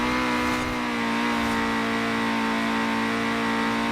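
A 1991 Peugeot 205 Rallye engine in Forza Horizon 4 holds a steady, loud mid-pitched drone at high revs, with no break or pause for the whole stretch.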